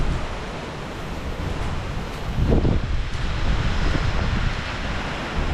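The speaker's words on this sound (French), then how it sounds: "la rivière elle est haute" Swollen high river rushing during a typhoon in Yamato, Japan, a steady broadband roar of fast water blended with gusting wind noise, loud and continuous, swelling slightly midway.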